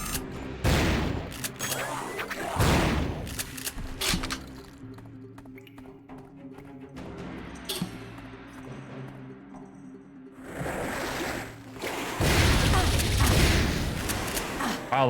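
Repeated bursts of weapon fire from the Fire Swarm in Turok 3: Shadow of Oblivion, loud blasts clustered near the start and again at the end, with a quieter stretch of game ambience in between.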